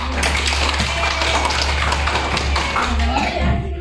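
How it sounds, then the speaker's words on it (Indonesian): A classroom audience gives a burst of applause, a dense, continuous patter of many hands clapping close by with voices mixed faintly underneath. "Ya, baik, kita berikan aplaus."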